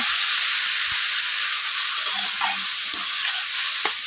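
Papaya fries in ghee in a wok with a constant close sizzle and hiss, broken by a few light stirring scrapes, and no talking.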